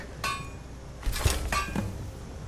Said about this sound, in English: Maybe hammering it will work.